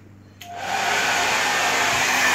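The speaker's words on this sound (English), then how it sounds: "Hairdryer running." A hair dryer switches on with a click and settles into a loud, steady whooshing roar close by.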